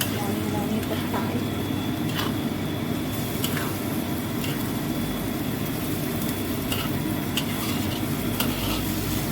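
Tofu, tempeh and petai beans stir-fry in a hot pan, with a steady close sizzle and intermittent scrapes and clacks of the spatula stirring through the food, continuous and fairly loud throughout.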